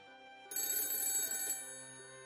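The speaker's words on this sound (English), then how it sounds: "my cell phone, sitting on the table, started ringing." A cell phone sitting on a table starts ringing, a bright electronic ringtone rising suddenly, playing for about a second near and moderately loud, then cutting off into a quiet room.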